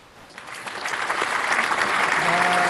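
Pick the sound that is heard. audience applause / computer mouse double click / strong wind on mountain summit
audience applause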